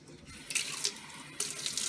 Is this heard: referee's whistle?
no